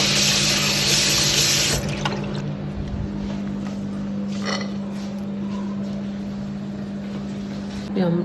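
Canned boiled chickpeas rinsed under a running kitchen tap, a loud steady rush of water for the first couple of seconds, then a quieter continuous flow with faint handling sounds and a brief splash near the end.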